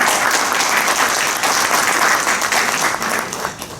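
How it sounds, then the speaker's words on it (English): An audience applauds steadily and loudly at a talk on writing, with dense continuous clapping that fades slightly toward the end. "So a round of applause for you guys"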